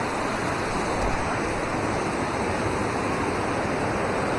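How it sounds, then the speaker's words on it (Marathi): Water rushes loudly into a waterfall pool, a dense unbroken roar close at hand that fills the whole stretch with steady noise. "पाण्याचा आवाज पण जास्त आहे."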